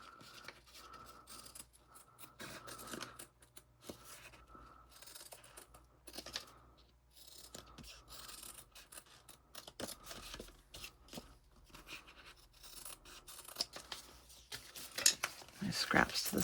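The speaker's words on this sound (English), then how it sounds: "All right, so I'm just going to cut this again." Scissors snipping through fabric to trim a custom dragon-themed pack, soft quiet cuts in an irregular run, with faint clicks and a louder handling noise near the end.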